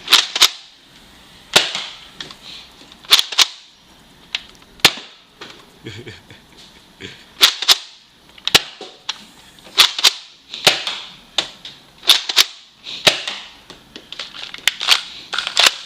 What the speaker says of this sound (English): As soon as you let it go, it shoots back forward, and we're primed and ready to shoot.